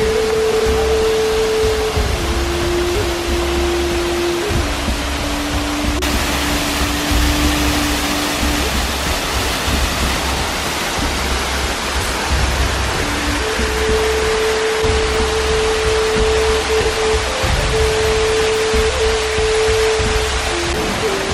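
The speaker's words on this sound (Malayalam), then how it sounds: "ഇതാണ് വെള്ളച്ചാട്ടം." A small waterfall in a forest roars as a steady, loud broadband rush of falling water that goes on without a break, and a faint steady tone sits under it.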